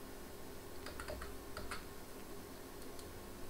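Keys tapped on a computer keyboard while entering a 12-digit number, a short run of light, close clicks in uneven rhythm over a faint steady background hum.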